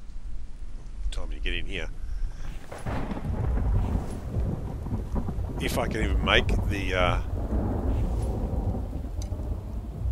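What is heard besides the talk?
thunderstorm with rain in the video game The Infected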